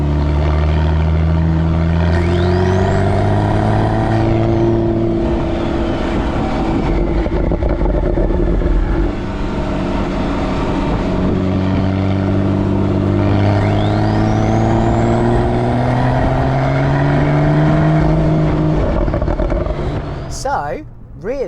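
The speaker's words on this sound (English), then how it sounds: "a wonderful sport exhaust option as available here. It does give a really nice soundtrack that pops and crackles away." A Porsche 911 Carrera S (991.2) with a turbocharged engine and sport exhaust revs loudly and climbs through the gears, with a rising exhaust note over someone talking throughout.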